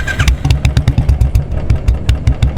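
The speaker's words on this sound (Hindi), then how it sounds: "जीतू बिना देर किए अपनी बाइक पर बैठ जाता है।" A motorcycle engine runs close and loud with a steady, rapid thumping putter, as if just started and pulling away, with no speech over it.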